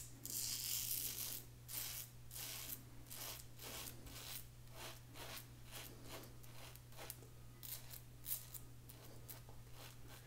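Parker Variant adjustable open comb razor scraping down neck stubble in a string of short, close, rhythmic rasping strokes, quiet but crisp, with a low steady hum underneath.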